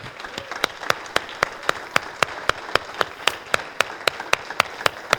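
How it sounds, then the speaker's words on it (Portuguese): A church congregation claps in a steady, even rhythm, roughly three sharp claps per second, close and distinct, with no talking over it. "Dê uma salva de palmas a Jesus."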